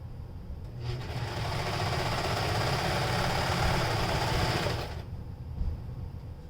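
A sewing machine runs in one steady, continuous burst of stitching for about four seconds while a beard sock is sewn, then stops, leaving a quiet low hum.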